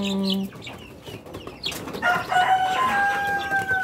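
Rhode Island Red breeder hens and chicks cluck and call close by on a farm, with short repeated clucks and higher cheeps over a steady background.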